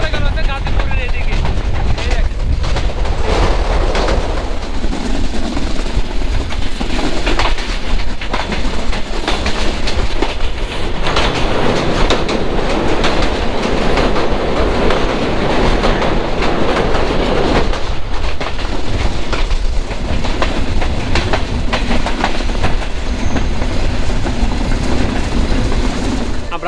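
The Chilahati Express rolls along the rails near Gazipur, Bangladesh, a continuous loud rumble with steady clickety-clack from the wheels and rattling carriages, heard up close from on board.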